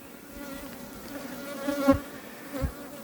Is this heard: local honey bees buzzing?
yes